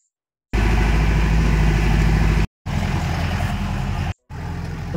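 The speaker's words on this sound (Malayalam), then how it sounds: "ഇവിടെ നമ്മൾ ജീപ്പിൽ മുകളിലോട്ട് പോവുകയാണ്" A four-wheel-drive jeep engine labours uphill on a steep off-road track, a loud, close, steady drone that drops out briefly twice before resuming.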